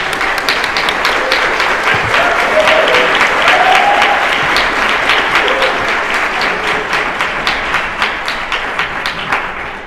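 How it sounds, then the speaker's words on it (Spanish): An indoor audience at a presentation gives a warm round of applause, dense clapping close and sustained for about ten seconds before slowly thinning toward the end. "quiero pedirles un fuerte aplauso"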